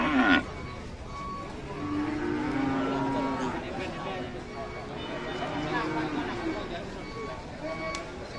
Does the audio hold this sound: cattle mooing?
yes